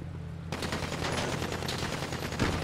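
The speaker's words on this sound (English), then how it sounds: "One of you was shooting at me." Rapid automatic gunfire from a GTA V multiplayer session erupts after a brief quiet start, then continues as dense, loud, sustained bursts of shots with no voices.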